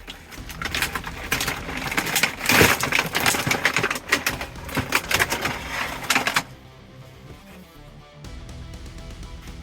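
Twist ties and stiff plastic packaging rustle, crinkle and click as a 7-inch Marvel Select Juggernaut action figure is pulled free. The crackling is loud and busy, then drops to faint handling sounds.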